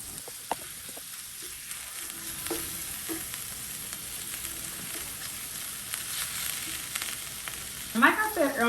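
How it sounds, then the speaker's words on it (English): Seasoned 93.7 lean ground beef frying in a skillet, with a constant sizzle and scattered scraping clicks as a utensil breaks it up, followed by a louder burst of stirring near the end. "The first thing we're going to do is go ahead and break down that ground beef."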